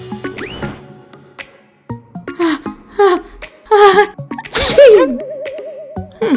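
A person builds up to a loud sneeze with a series of breathy gasps and rising vocal strains, then the sneeze bursts out near the end, followed by a wavering whine.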